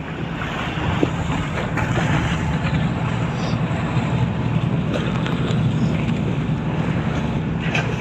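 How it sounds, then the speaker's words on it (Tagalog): Strong wind roaring across a small boat at sea on rough water, a constant loud rushing buffet with the churn of waves and hull noise underneath. "Yan, medyo mahangin kasi."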